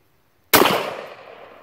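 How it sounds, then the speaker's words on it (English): A Rossi Tuffy shotgun is fired one-handed outdoors: a single sharp, loud blast breaks the silence, followed by a fading echoing tail. "Let's see how it actually shoots one-handed."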